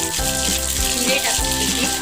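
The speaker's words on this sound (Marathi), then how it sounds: "तेल आपलं छान गरम झालेलं आहे, त्यामध्ये आपण मोहरी टाकून घेऊया अर्धा चम्मच" Half a teaspoon of mustard seeds sizzles and crackles in hot oil for a brinjal and potato gravy, a steady close frying hiss with a faint tonal hum beneath.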